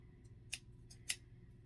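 Paper being cut with scissors while planning in a large horizontal planner, two or three crisp snips close by and quiet, with faint low background hum.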